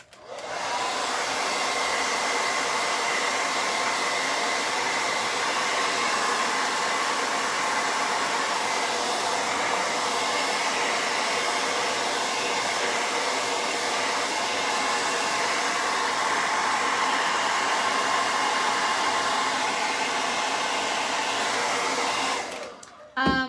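A hair dryer blows steadily at close range for about twenty-three seconds while it dries paint on a wooden football-helmet porch sign, its even whoosh loud and unbroken until it cuts off at the end.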